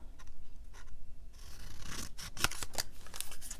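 Close, crisp snips and slicing of scissors cutting out perforated paper labels at a craft table, several quick cuts in a row after a brief rustle, with no talking.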